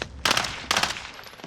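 Two short bursts of machine gun fire in Call of Duty Warzone, each a quick rattling string of close, loud shots separated by a brief pause.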